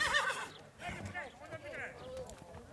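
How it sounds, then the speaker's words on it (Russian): Yakut horses neigh and whinny several times in quick succession, fairly loud and close, with hoof clatter and a busy background of other activity. "Кажется, что лошади осознают важность поездки и тоже, как люди, волнуются."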